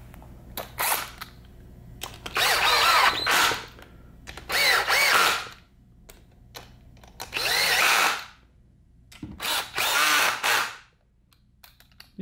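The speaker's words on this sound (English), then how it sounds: "So I'm going to put these bolts in now that have the red thread locker gel on it." A power drill runs in several short bursts, driving thread-locked bolts into a T5 transmission case; each whirring run lasts about a second with brief pauses between, close and loud in a quiet workshop.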